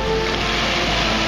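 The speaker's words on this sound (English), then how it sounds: "there comes his rescue and his boat ride." A motor rescue boat comes across open water during a kiteboarding self-rescue. Its engine rumbles steadily and fairly loudly under wind and wave noise for a brief moment.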